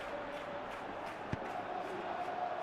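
A football video game crowd murmurs and cheers in the stadium, with a steady, moderately faint roar and one brief sharp thump partway through.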